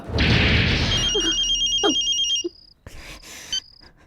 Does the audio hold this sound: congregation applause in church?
no